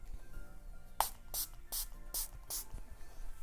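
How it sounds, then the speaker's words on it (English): Five short, hissing bursts of a makeup setting spray misting onto a hand in quick succession, soft and close, with faint background hum between them. "I'm gonna use the Makeup Revolution spray and I'm gonna spray my hand."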